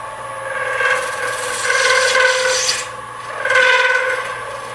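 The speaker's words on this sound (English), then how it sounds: "You don't necessarily like that chattering sound." Turning tool on a wood lathe cutting a pen blank, giving a steady raspy chattering scrape that swells and fades in a few passes, close and moderately loud, no voices.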